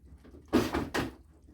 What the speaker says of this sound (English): Otherwise the drawer won't come out.